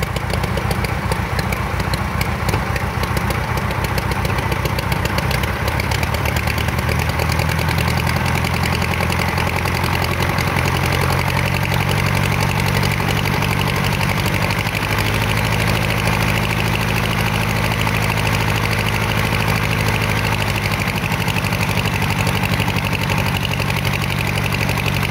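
A Fly Baby 1B biplane's engine running up and idling, a loud continuous close drone with steady vibration and slight knocking, rising in pitch then settling, with no talking.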